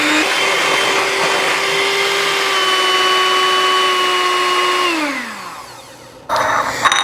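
An electric mixer beats sweetened condensed milk and lime juice for key lime pie with a loud, steady whirring hum. The motor winds down and stops near the end, followed by a brief clatter.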